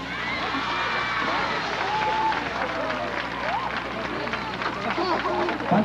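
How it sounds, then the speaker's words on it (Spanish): Outdoor crowd applause for the San Antonio dance troupe at a 1994 community dance festival in Sain Alto, steady clapping and crowd murmur with scattered voices throughout. "Les queremos aquí a la danza San Antonio con un fuerte aplauso"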